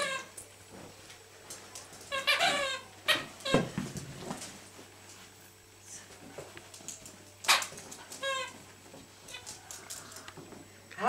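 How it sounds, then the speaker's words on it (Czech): A dog lets out wavering, drawn-out howls and whines in short bursts, close by in a quiet indoor room, with faint rustling between cries. "Ta druhá tam vyje."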